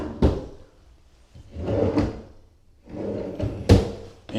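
Kitchen drawers in a mobile home open and close with several wooden thunks and rolling slides, spread across the moment at close range with no talk.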